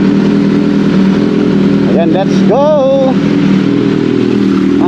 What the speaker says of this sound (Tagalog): naka big bike po tayo, naka motor.